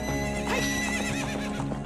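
A horse in Ocarina of Time: Master Quest neighs loudly with a wavering whinny over a steady clip-clop of hooves, filling the moment with no talk.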